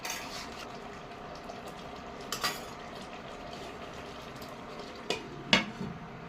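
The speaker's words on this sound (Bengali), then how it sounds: "এবার আবার একটু নেড়ে ছেড়ে দেবো।" A spoon stirs chana masala in a cooking pot with a soft bubbling simmer underneath and a few sharp metallic clinks against the pot, fairly quiet and close.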